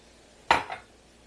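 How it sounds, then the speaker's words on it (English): Rice dropped into a pot of boiling water in a home kitchen, a single quick clattering splash with a smaller second patter just after, short and fairly close, with no talk. "Let me drop the rice in."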